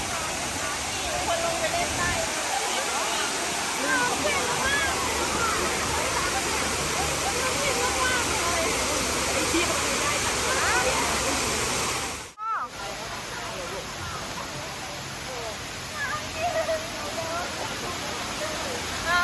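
Sai Yok Noi waterfall in Kanchanaburi, Thailand, pouring in a loud, continuous broadband rush heard up close, with a brief cut partway through.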